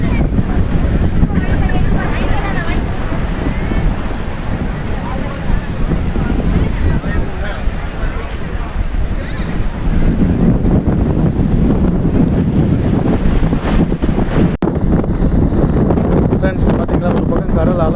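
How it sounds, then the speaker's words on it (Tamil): Sea waves crash at Dhanushkodi beach with heavy wind buffeting the microphone, a loud continuous roar of surf throughout while someone talks over it. "இந்த பக்கம் பாருங்கள், கடல் எப்படி அதிகமாக அடிக்குது பாருங்க."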